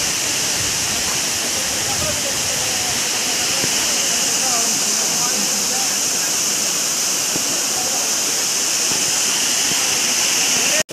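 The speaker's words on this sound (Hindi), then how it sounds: "ये कितना ऊपर से पानी गिरता है।" Water plunges from a height at Gita Ghat waterfall in Rohtas, Bihar, producing a loud, steady, close roar that never lets up, while a person talks over it.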